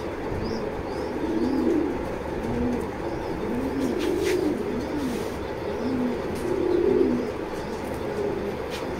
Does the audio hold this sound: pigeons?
yes